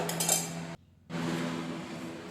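A spoon clinks and scrapes through a drumstick flower mixture sautéing in oil in a pan, in steady close stirring broken by a brief pause.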